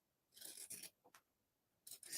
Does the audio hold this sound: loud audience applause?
no